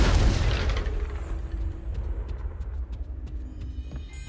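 A booming explosion from a Harry Potter–style video game's Confringo blasting spell, a loud low burst at the start that rumbles and fades over several seconds.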